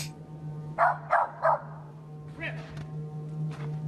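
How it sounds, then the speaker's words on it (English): A frightened, apprehensive dog gives three quick barks close by, then a few softer, scattered yips over a steady low hum, with no talking. "it's barking like a scared dog would"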